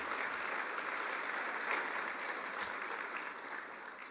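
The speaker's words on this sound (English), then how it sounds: "now you can clap for him." Sustained audience applause fills a hall at an alumni awards ceremony in Louisville, a steady dense clatter of many hands at an even level throughout.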